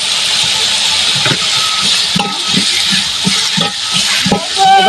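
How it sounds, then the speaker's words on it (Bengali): Potato pieces frying in a pan with ginger paste just added, a steady loud sizzle and hiss running throughout, with repeated stirring scrapes and soft clatter of a spatula against the pan. "আলুগুলো আমি কিছু সময় ভেজে নেব আমি এগুলা কিছু সময় ভেজে নিয়েছি এবার আমি কিছুটা আদা বাটা দিয়ে দিলাম"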